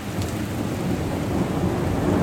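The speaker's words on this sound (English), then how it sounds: "look at this rain. It's really cool looking." Heavy rain pours down onto a street in a steady roar while low thunder rumbles beneath it, loud and continuous with no voices.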